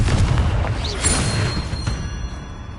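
A loud, dense blast from the Confringo spell in Hogwarts Legacy opens with a burst, then a rumbling, crackling tail that slowly fades.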